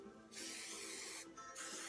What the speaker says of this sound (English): this is my Nexus hairspray, and I just go ahead and spray the braid